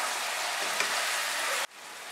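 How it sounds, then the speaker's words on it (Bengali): Yogurt masala sautéing in a pan over medium heat, a loud steady hiss and sizzle that cuts off abruptly near the end, leaving a softer fizz; no one talks. "মাঝারি আঁচে আমি 1 মিনিট কষিয়ে নিলাম দই দেওয়ার পর।"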